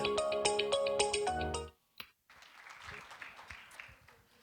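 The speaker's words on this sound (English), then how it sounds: "Please give a round of applause to our vibrant leader, Dr. Sunila Harsour, and her exemplary team." Audience applause at an Indian American Medical Association gala in Illinois: a short melodic ringtone-like chime plays first, then after a brief pause a crowd claps steadily and moderately loud through the rest.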